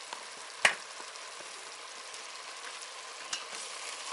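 Meat fries and stirs in a pan at a home cooking setup, with a steady soft sizzle throughout. Two light scrapes of a utensil against the pan sit over the sizzle.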